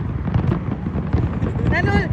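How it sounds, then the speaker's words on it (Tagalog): New Year fireworks at the Burj Khalifa in Dubai crackle and boom over a noisy crowd with people talking nearby, and a whistling rise near the end. "Ang ganda ng fireworks dun sa malapit."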